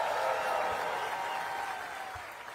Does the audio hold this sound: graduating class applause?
yes